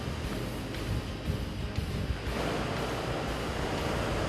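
Steady roar of sea waves and wind noise around a fishing boat, a continuous rushing wash with occasional low thumps, no voices.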